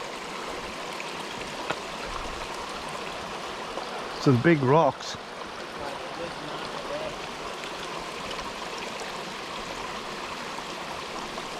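A steady rush of flowing creek water at a hiking-trail crossing runs throughout, with a person briefly speaking midway over the constant babble.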